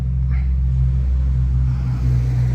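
A Mark II car engine runs with a steady low rumble, close and fairly quiet, without any change in pace.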